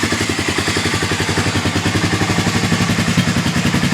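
A Honda Fourtrax 300 ATV engine idles nearby with a steady, even, rapid thumping beat that holds unchanged throughout.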